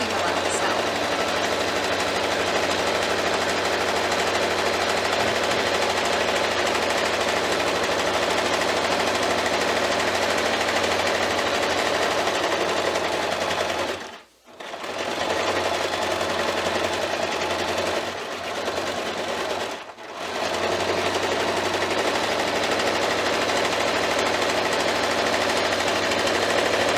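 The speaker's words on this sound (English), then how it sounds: "the rest I'm going to sew all the way around" Sewing machine running steadily, stitching a half-inch seam around a quilted fabric stocking, with a constant loud mechanical whir broken by two brief pauses midway.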